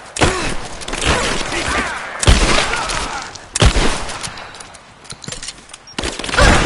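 Covering gunfire in a combat scene from the video game Rise of the Tomb Raider, loud dense bursts of rapid shots and impacts with shattering debris, sustained near-continuous fusillades broken by brief lulls, close and intense.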